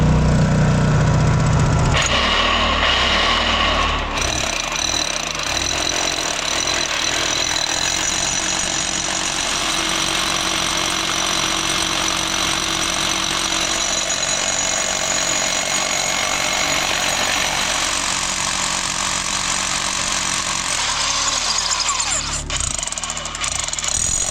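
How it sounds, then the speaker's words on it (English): A big rock drill bores holes into pegmatite rock at a gem mining dig, a loud, steady, continuous mechanical roar that runs almost unbroken from start to finish with a brief change in tone near the beginning. "I got the big drill today, so hopefully it'll be a bit easier."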